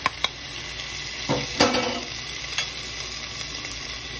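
Garlic goes into a pan where onion, bacon and chorizo are frying, giving a steady close sizzle with a few sharp utensil clicks and stirring scrapes.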